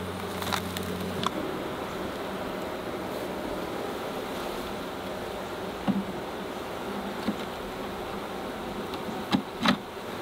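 Honey bees hum steadily from an open hive box, a dense continuous drone with a few individual insects buzzing close by now and then, no talking.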